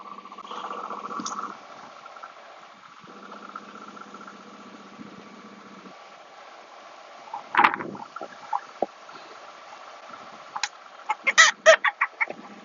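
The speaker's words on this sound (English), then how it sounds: "Chickens know what's coming." Chickens cluck in short, scattered calls, mostly toward the end, over a steady low engine-like hum, at moderate distance with no talk.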